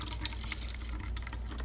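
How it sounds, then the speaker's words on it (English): Mashed firethorn berries poured through a strainer to drain juice for homemade wine, a faint, close, continuous trickling with small splashes over a steady low hum. "I'm going to go ahead and pour some of these through"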